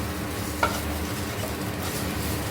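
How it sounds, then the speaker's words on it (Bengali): Eggplant pieces fry in a pan while being stirred: a quiet, continuous sizzle with a soft scrape or clink near the start and no voices. "দেখো ওখানে বেগুনগুলো ভাজা হয়ে গেছে"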